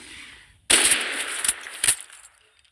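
M4A1 rifle gunshots in a video game: a few sharp, close single shots in quick succession after a quiet start.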